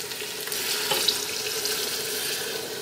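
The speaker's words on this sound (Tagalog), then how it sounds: "Okay, lalagyan ko na siya ng tubig." Water pours steadily from a tap into a cooking pan while tofu is being cooked for a rice porridge meal, a continuous close hissing splash for about three seconds with no talk.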